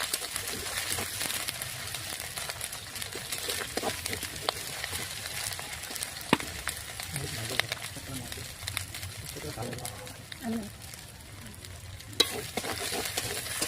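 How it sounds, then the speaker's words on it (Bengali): Chillies fry with onion and garlic in a pan. A continuous sizzle mixes with frequent stirring clatter, and a person talks over the cooking for much of the time. "দিয়ে দিলে এখানে মরিচ দিয়ে অল্প ভাজবে অল্প"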